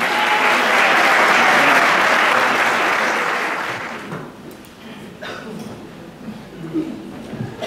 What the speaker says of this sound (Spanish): Recibamos con un fuerte aplauso al padre Luis Alfonso Zamorano.